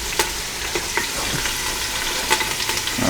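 Lemon garlic marinated pork tenderloin sears in an Instant Pot with a loud, steady sizzle and crackle, punctuated by several sharp spatters and scrapes.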